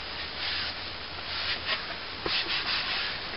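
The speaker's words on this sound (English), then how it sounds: "just cleaning up the wood, getting rid of all the dust that could be on there and any finger marks as well" Cloth wiping dust off a wooden artist's palette before varnishing, soft close-up rubbing strokes in an uneven rhythm, faint and alone.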